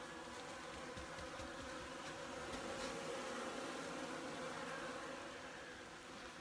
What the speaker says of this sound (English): the bees are foraging on this tote